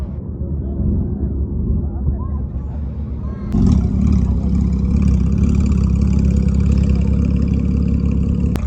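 A Porsche's engine runs on the grass at a car show in Abu Dhabi, a low hum that swells into a louder, steadier drone partway through, heard close by amid outdoor crowd noise.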